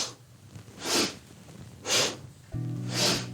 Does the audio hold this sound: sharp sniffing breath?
yes